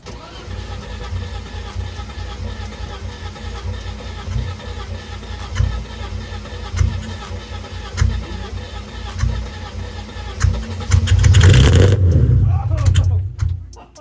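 Wrecked BMW E30 with a weak battery, an engine cranking in slow, laboured rhythmic turns, then catching and firing into a louder rough roar near the end before cutting off, close by with people talking over it.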